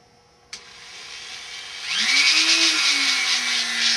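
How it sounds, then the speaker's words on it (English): A rotary tool fitted with a small jeweler's bit spins up with a click and then whines steadily while smoothing a scale model car door hinge part. "Now let's go in and use my little jeweler's bit."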